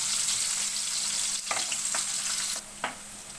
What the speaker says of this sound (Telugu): ఇప్పుడు ఇందులో ఒక ఆనియన్, ఒక మీడియం సైజ్ ఆనియన్ వేసుకున్నాను